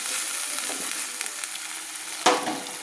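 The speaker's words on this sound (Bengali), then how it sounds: "আদা আর কাঁচা লঙ্কাটা আমি একসঙ্গে আবার নেড়ে দিচ্ছি।" Ginger and green chili paste sizzles in hot oil for a vegetarian chana masala while being stirred, a constant bright hiss with light scraping and one sharper clatter of the spoon near the end.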